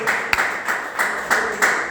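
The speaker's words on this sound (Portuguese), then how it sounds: "Dá um aplauso forte para Jesus" A church congregation applauds during a Portuguese-language worship service, a steady wash of clapping with louder bursts roughly every third of a second, close and full.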